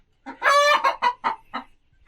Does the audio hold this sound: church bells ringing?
no